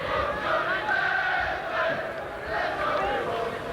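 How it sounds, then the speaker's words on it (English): A Leeds rugby league crowd at a Warrington versus Leeds match chants in unison, a steady, rolling stadium chant from many voices heard from a distance. "And you can hear what the Leeds crowd think of him."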